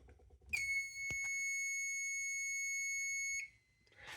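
A fire alarm panel sounds a steady, loud electronic tone for about three seconds after a smoke detector activates, starting and stopping abruptly with no talking over it.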